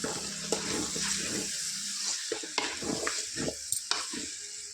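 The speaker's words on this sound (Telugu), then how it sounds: "ఒక పావు కిలో టమాటా కొద్దిగా కొత్తిమీర వేసుకుందాం ఫ్రెండ్స్ వేసుకొని ఒక్కసారి కలుపుకుందాం" Tomato and coriander get stirred into chicken curry with flat beans, close wet scraping and sloshing strokes in an irregular rhythm over a soft sizzle, fairly quiet, no speech.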